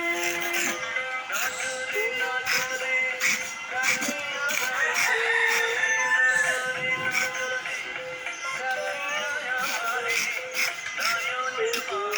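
Chickens clucking with a rooster crowing, a fairly quiet backyard mix of fowl calls and scattered small clicks and shuffles running throughout.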